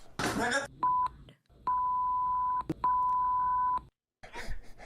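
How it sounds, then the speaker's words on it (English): A parrot's swearing is covered by censor beeps. Three steady, pure-tone bleeps of different lengths cut over a bird's squawking and talking, with short silent gaps between them. "A lot of beeping."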